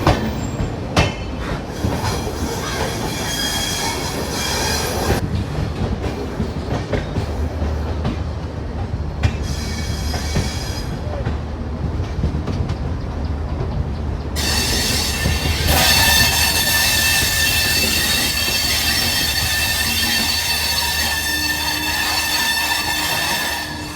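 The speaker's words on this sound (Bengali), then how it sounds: "ফাইনালি আমাদের শিয়ালদা রাজধানী এক্সপ্রেস শিয়ালদা স্টেশনে ঢুকছে" Sealdah Rajdhani Express rolling into Sealdah station, with a loud continuous rumble of railcars, wheel squeal and clattering over joints, growing brighter and louder toward the end.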